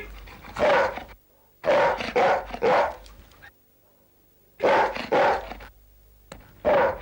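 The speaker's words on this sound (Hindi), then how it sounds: "आज सैम क्यों बार बार भौंक रहा है?" A pet dog barks in repeated loud bursts, four clusters of several sharp barks each with short quiet gaps between them, heard indoors in a household scene.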